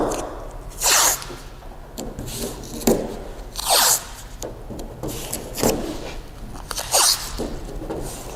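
Masking tape is pulled off the roll and pressed around a car panel being prepared for wet sanding, in four evenly spaced loud, ripping tears with rubbing and smoothing between them, close-up and without talk.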